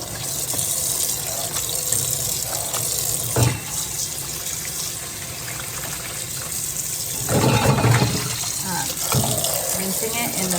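Water sloshing and splashing as dyed fabric is rinsed in a small plastic Tupperware container under running tap water, a continuous near rushing with louder gushes and bumps.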